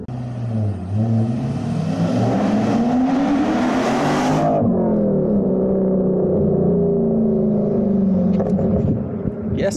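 Chevrolet Corvette V8 after a heads, cam and intake swap, loud and close, revving hard then dropping into a rough, choppy idle that holds steady.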